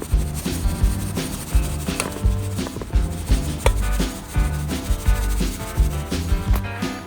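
Dry milk powder being sifted for a homemade fishing-bait mix, a steady run of soft rhythmic rubbing, scraping strokes close up that repeat several times a second and continue throughout without any talk.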